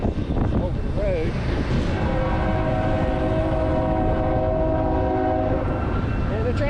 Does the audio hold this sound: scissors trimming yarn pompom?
no